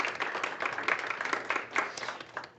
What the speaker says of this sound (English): Let's give her a round of applause, everybody.